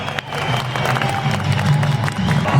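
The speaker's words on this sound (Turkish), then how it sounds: "Alkışlar onlara" A large crowd at a Turkish political gathering claps and cheers for newly elected mayors, a dense roar of applause and voices with steady low rumble beneath.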